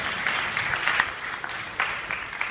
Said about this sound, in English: And clap for that.